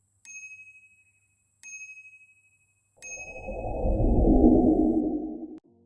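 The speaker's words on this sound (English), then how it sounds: "Instead, you need to rely on a mechanical bell." A mechanical bicycle bell on a Fafrees F20 Ultra e-bike rings three times with clear, evenly spaced dings, followed by a brief whooshing rush of noise.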